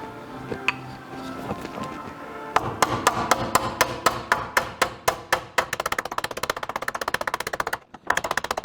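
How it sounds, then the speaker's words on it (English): Ball peen hammer peening over copper rivets backed by a dolly: a steady run of light, sharp metallic taps, sparse at first, then quickening into a rapid even patter, close and clear with no talk. "And then I will pin it over with a ball peen hammer."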